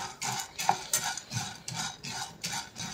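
Chana dal dry-roasting in a pan over a low flame, stirred steadily with a utensil, giving repeated scraping and clinking strokes of grains against metal, close and moderately loud with no talk.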